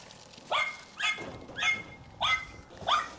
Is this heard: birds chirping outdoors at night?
no